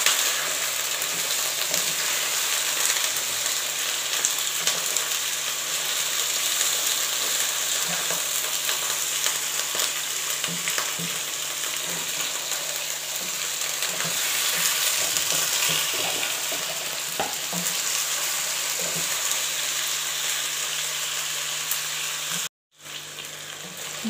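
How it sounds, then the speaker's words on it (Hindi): Chicken pieces sizzle steadily in a pan with browned onions, a loud continuous frying hiss with faint stirring scrapes throughout, no voices, cutting off briefly near the end. "और हम इसको 5 से 10 मिनट के लिए अच्छे से फ्राई करेंगे।"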